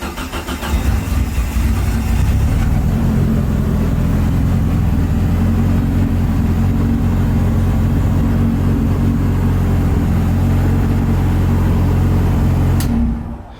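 A Mitsubishi Evo being rebuilt starts up loud and close: a brief crank catches into a rough, steady idle with a few revs, then cuts off sharply.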